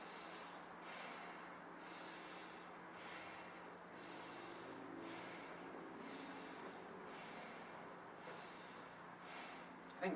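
Slow, steady breathing in and out through the nose, faint rhythmic whooshes repeating every second or so over a quiet background hiss.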